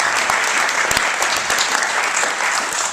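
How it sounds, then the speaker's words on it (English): Steady applause from an audience at an Economist innovation event on education, dense and continuous throughout with a few sharper claps standing out, loud and close. "Let's take a round of applause."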